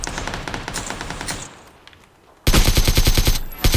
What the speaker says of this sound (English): Yo, suppressor on AK?